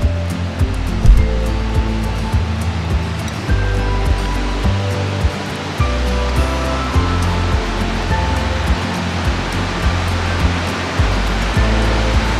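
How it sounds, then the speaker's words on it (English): Kootenai Falls in Montana, a waterfall rushing as a loud, steady roar of water, broad and continuous with no voices. "We sat there for a little while just watching the waterfall"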